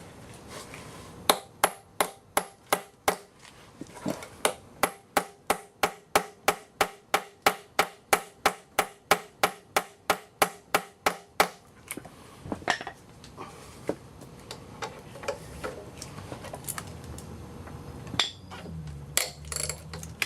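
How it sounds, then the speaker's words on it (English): A hammer taps on a tool seated in a stripped bolt on a 1.8T AEB/ATW engine during a belt replacement. About twenty sharp metallic knocks come in an even rhythm, then fewer, scattered clanks and rattles follow. "We're just going to keep tapping it in there until we get it seated all the way and it breaks loose."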